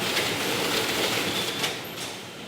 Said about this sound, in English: the packing hall is even louder than the rest of the brewery